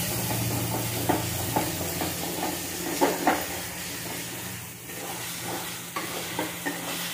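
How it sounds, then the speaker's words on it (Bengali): Egg curry masala stir-frying in a pan with a little water added, a continuous close hiss and sizzle broken by repeated scraping strokes of a spatula. "এবার আমি একটু জল দিয়ে আর একটু কষাবো।"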